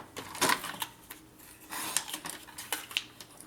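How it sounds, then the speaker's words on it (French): Scissors cut a paper card for a scrapbooking page: a few quiet, crisp snips and rustles scattered through a soft, near-silent background. "Je vais couper ça."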